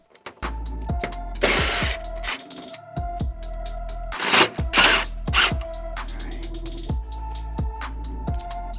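A ratchet tightens grille bolts on a Ford F-series truck, a series of sharp metallic clicks and short ratcheting bursts, close up, with pauses between turns and no talk.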